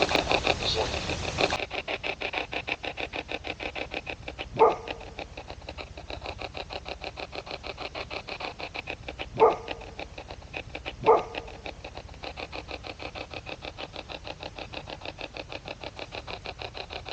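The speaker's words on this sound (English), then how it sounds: "Bothering the dog? Scaring the dog?" A dog barks a few times, sharp isolated barks spaced apart over a steady mechanical rattling hum.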